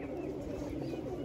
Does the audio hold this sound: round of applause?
no